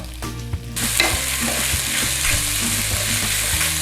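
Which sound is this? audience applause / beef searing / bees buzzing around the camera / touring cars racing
beef searing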